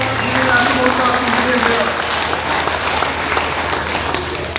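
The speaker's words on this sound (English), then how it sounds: "Once again, a big round of applause." A crowd applauds steadily at an international motocross museum, a dense wash of clapping that holds for the whole stretch and fades slightly near the end, with a voice briefly heard early on.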